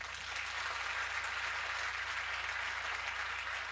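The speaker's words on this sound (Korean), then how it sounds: "우리 나오실 때 큰 박수로 환영해 주시면 감사하겠습니다" Steady, sustained applause from a large audience at a 20th-anniversary thanksgiving worship ceremony, welcoming speakers to the stage; even and continuous, somewhat distant, with no voices over it.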